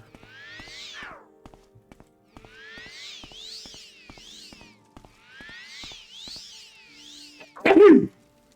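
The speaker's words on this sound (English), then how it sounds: "That sneeze hurt my throat" One loud, sharp sneeze bursts out near the end, after stretches of chirpy, swooping bird-like calls.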